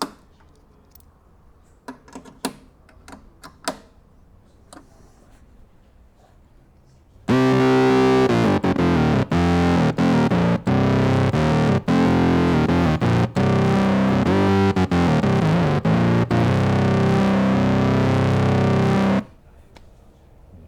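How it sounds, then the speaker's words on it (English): An ARP Cat synthesizer, overdriven by replugging its output into its input, gives a loud, gnarly, continuous distorted tone for about twelve seconds after some faint clicks and handling noises. "So you're basically overdriving the synth and getting a gnarly distortion."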